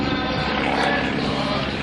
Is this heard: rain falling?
no